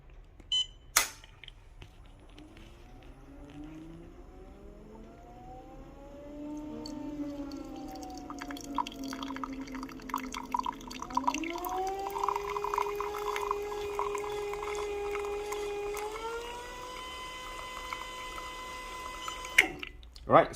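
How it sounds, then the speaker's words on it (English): A VBM Domobar Super Electronic dual-boiler espresso machine with a gear pump dispenses hot water for about 18 seconds, a steady hum and flowing stream rising in pitch partway through, with a click at the start and end. "the moment I press, I'm going to check the amount of water that's coming out."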